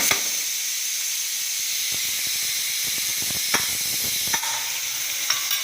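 Vegetables with ginger and garlic sautéing in a pan for a vegetable kurma, giving a continuous loud sizzle and hiss with occasional light clicks of stirring, and no voices.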